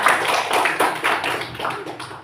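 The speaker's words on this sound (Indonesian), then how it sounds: "Tepuk tangan dulu untuk kita semua" Children clapping hands in a classroom lesson, a run of quick uneven claps at close range, fairly loud and without talk.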